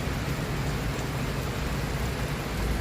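Steady, dense hiss of rain falling, even and unbroken throughout, with no voices.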